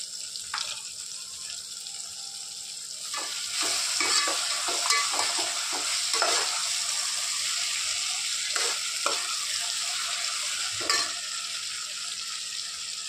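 Cashews frying in a pan for a simple soybean rice dish, steady sizzle with repeated sharp stirring scrapes and clinks, close by.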